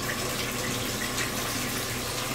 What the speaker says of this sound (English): All right, so I just rinsed out the gravel,